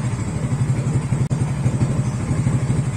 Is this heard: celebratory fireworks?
no